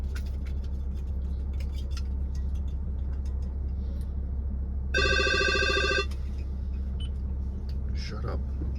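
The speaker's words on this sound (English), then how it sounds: "Phone was ringing." A phone rings in a car for about a second, a bright electronic trill over the steady low rumble of the cabin and road, with talk nearby.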